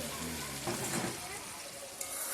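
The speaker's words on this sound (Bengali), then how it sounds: "জল ঢেলে দিলাম" Water poured into a pan of frying prawn curry masala sets off a loud, steady, close hiss of sizzling that fills the whole moment without a break.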